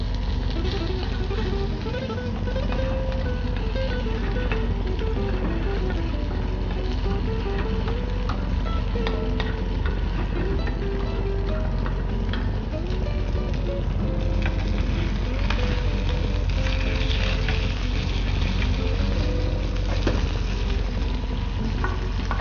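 Walnuts fry in a small amount of heated linseed oil for a sauce, giving a steady continuous sizzle with occasional stirring scrapes throughout, close and moderately loud with no talking.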